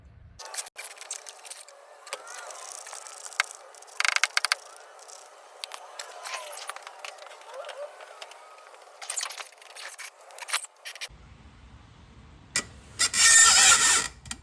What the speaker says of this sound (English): start zipping off them screws